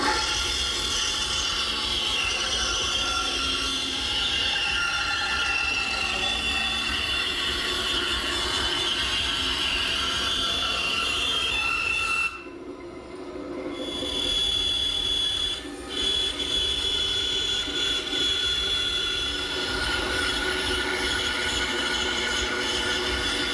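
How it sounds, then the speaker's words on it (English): A bandsaw cuts a wooden table top for a turkey table along a traced cardboard template, giving a steady, close mechanical whir with blade hiss that runs throughout and dips briefly midway before resuming. "And we'll cut it out at the bandsaw."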